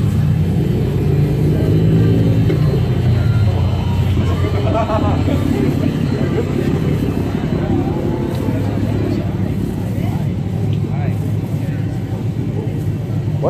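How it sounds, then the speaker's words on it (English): A car engine with a leaking exhaust gives a continuous low rumbling drone nearby on a Tokyo street, with occasional revving rises and faint voices underneath. "Exhaust leak, bro. Fix it."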